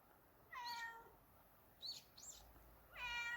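A cat meows several times in a quiet outdoor village lane, with two drawn-out calls at the start and end and short chirpy sounds in between, heard close and fairly clear over faint background noise.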